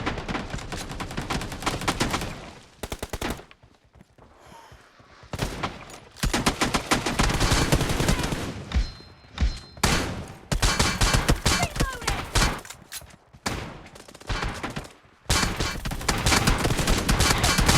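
Gunfire in the mobile battle royale game BGMI, played on a Realme 13 Pro+ 5G: loud bursts of rapid automatic fire and repeated shots in clusters, broken by brief pauses.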